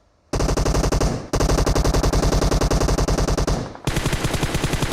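Long bursts of rapid automatic gunfire from PUBG Mobile rattle loudly and continuously, broken by two brief pauses before firing resumes.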